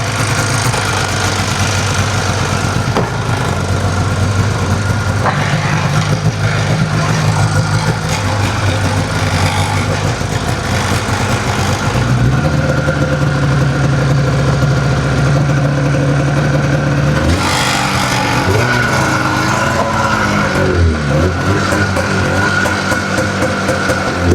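A used snowmobile engine, a cheap marketplace machine just brought back to life, runs steadily and loud throughout, with a rough idle and revving shifts partway through.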